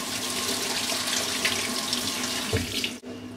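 A makeup brush being rinsed under a running tap, the water pouring steadily into a sink with a constant close splashing hiss that briefly cuts off near the end.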